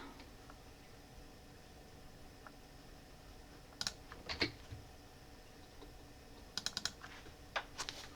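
Keys clatter faintly on a Razer computer keyboard, in sparse scattered clusters of clicks over a steady low hiss, close but quiet.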